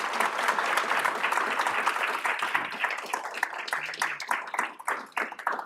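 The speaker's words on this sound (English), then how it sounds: "Specifically, let's give them a round of applause." An audience at a conference applauds the panelists with dense, sustained clapping. It thins toward the end into scattered individual claps, with no voices over it.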